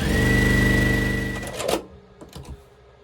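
A sewing machine stitches quilt block pieces together, running in a steady, loud whirring burst for about a second and a half before stopping, followed by a few soft handling clicks.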